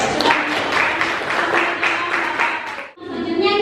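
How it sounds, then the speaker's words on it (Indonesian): Classroom applause for a student's lecture on parliamentary democracy, a few seconds of scattered clapping from a small group that stops abruptly, then a brief voice. "Tepuk tangan dulu untuk kuliah."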